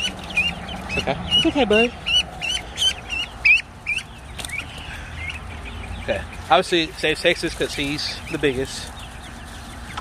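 Backyard coop chickens clucking and squawking in short bursts near and fairly loud, mixed with a person's calm talk throughout.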